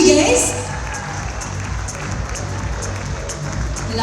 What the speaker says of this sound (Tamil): ஒரு கைத்தட்டல் கொடுத்துடலாமா?